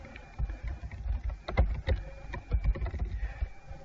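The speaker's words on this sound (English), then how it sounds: "So I'm just typing in system information." Keys tapped on a Windows 7 laptop keyboard, a quick irregular run of close, distinct clicks and thumps with brief pauses, heard alone without talk.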